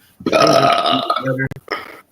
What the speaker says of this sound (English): Burps are gonna happen more.